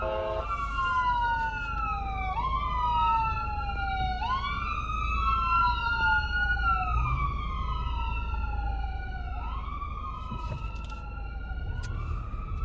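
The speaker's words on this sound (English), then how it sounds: "You hear the ambulance?" An ambulance siren wails in a city traffic jam, its rising and falling sweeps repeating steadily over a constant rumble of idling vehicles, loud and fairly close.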